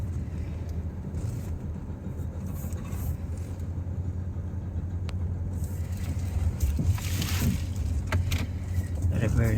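A car reversing into a parking space during a back-parking driving lesson: steady close engine rumble and low road drone, growing slightly louder toward the end, with no speech over it.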